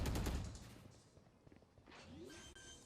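Valorant rifle fire rattles out in a quick burst at the start, then gives way to softer game effects and whooshing sounds, fairly faint overall.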